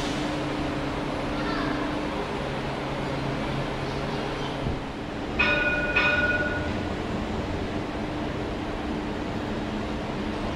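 A Sydney train, an Airbus 3 unit numbered 2122 on the Dulwich Hill service, sits idling at Central Station with a steady low rumble, a brief clank and a short squeal or chime partway through, amid station ambience.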